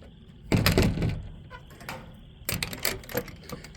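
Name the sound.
closing chicken coop door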